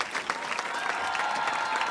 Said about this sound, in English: Can I hear a louder cheer, please?